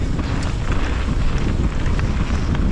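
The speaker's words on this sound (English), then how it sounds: "Oh, windy." Strong wind buffets the microphone at a mountain bike park, a loud, continuous low roar with no talking.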